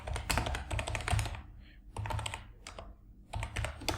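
A ping command is entered on a MacBook M1 keyboard, with clusters of crisp, close key clicks broken by brief silent gaps and no talking.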